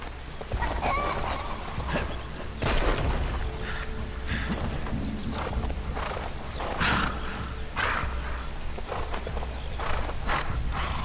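Horse hooves clip-clop steadily in the PC game Lego Marvel Super Heroes 2, with a neigh and scattered thumps over a low, constant background hum.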